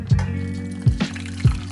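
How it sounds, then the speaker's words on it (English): Water and soaked herbs are poured into a pot on a kitchen stove, three separate low sloshing splashes spaced about half a second apart, close and fairly loud. "I'm just gonna pour them right in here and add a bit more water"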